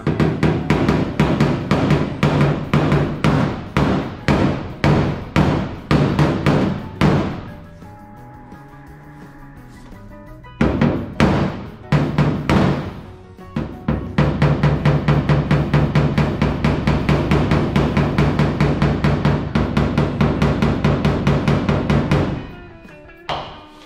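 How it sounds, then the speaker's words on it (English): A flat body hammer beats dents out of the sheet-metal body of a Nomad car, making loud, close, rapid metallic blows in a steady rhythm. There is a brief pause before the hammering resumes in a long, even run. "and then my flat body hammer."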